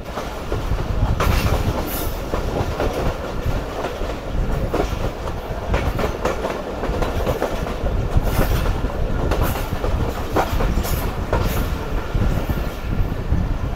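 An old-coach Karakoram Express races at speed between Lahore and Karachi without stopping, wheels keeping up a steady, loud clickety-clack with sharp rhythmic knocks over a constant rumble, heard from inside the train.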